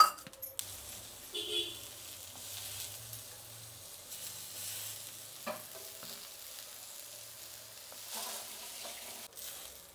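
Mini uttapam sizzles in oil on a pan, a quiet, soft frying hiss with occasional scraping and light utensil taps.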